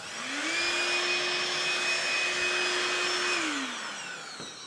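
A DeWALT vacuum cleaner spins up, runs with a loud steady whine and airflow rush for about three seconds, then winds down, heard alone and close.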